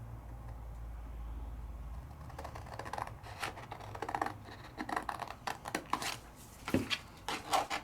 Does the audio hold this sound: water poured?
no